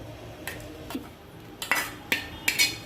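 Spoon scraping and clinking against a dish as cooked tomato Maggi noodles are transferred, four or five short sharp scrapes spaced over a few seconds, close and moderately loud with no talk.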